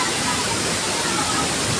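Aliw Falls, a strong waterfall, roars as a dense, loud, steady wash of rushing water, close and constant throughout.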